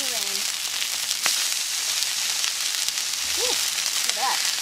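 Black sea bass fillets sizzle in a little avocado oil in a hot pan over a wood fire, a dense steady crackling hiss throughout with a faint voice and brief distant chirps in the background.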